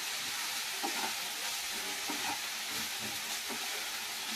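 Chopped fenugreek greens frying in a pan, a steady hissing sizzle with soft stirring scrapes recurring every half second or so, close by and with no voices.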